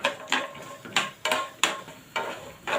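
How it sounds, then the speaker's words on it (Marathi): Peanuts roast in a dry pan while a spatula stirs them in regular strokes, about six rattling scrapes in under three seconds, close and fairly loud with no speech. "शेंगदाणे आपल्याला परतून घ्यायचे आहेत शेंगदाणे लाल होईपर्यंत आपल्याला हे परतून घ्यायचे आहेत"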